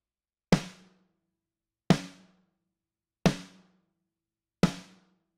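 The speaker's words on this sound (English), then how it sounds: "And we can now listen to this snare combination." Layered snare drum samples programmed in Logic Pro for gospel drums hit four times at an even, unhurried pace, each a sharp crack with a short decaying tail, clean and alone with no talking.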